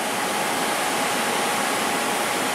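Water pouring into an Omax waterjet cutting tank as the level is raised, a steady loud broadband rushing hiss with no change and no talk.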